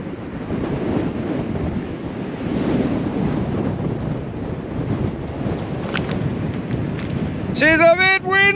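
Steady wind buffets the microphone on a coastal hilltop, a continuous roar with gusts that swell and ease throughout; near the end a voice briefly speaks over it.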